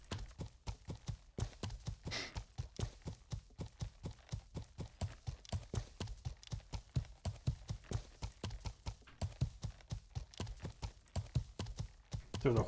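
Steady hoofbeats clop along in an even walking rhythm, a video game horse moving at a constant pace for the whole stretch.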